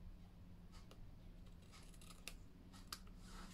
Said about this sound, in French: je vais prendre d'autres ciseaux